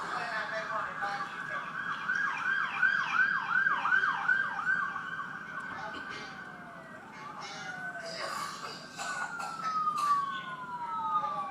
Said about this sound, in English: we hear sirens in the background